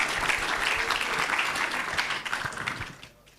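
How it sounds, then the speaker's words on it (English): Conference audience applauding steadily at full strength, a dense wash of many hands that thins and fades away over the last half second. "give warm applause for CITSM 2025."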